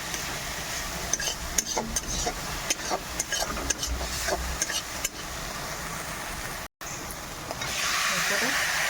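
Food frying with turmeric in a village kitchen while a spoon stirs and scrapes in bursts over a soft hiss, briefly cutting out before the sizzle rises again.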